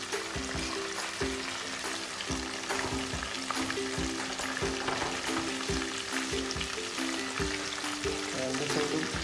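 Chicken pieces frying in a pan, a loud continuous sizzle with bubbling oil and occasional clinks and scrapes as the pieces are turned.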